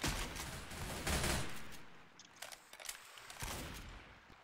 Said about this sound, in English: Taking the machine gun.